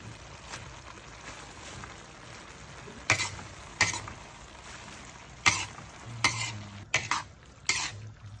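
Chinese cabbage stir-fried in a pan for dinner, a quiet frying hiss broken by intermittent sharp clinks and scrapes of a utensil against the pan.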